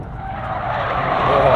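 Toyota GR Yaris, all-wheel drive, sliding on a race track, tires skidding with a continuous loud hiss and scrub over engine drone, rising slightly toward the end.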